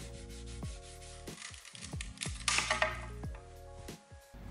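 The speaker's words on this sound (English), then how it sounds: "The reason I'm filing down the chain is to create that round looking surface as a Cuban link should have." A hand file scrapes over a gold Cuban link bracelet chain in rhythmic back-and-forth strokes, close and fairly quiet, with no talking.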